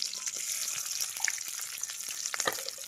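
Green chillies fry in a pan for a meal-maker biryani, giving a soft continuous sizzle with scattered light crackles and pops, fairly quiet and close.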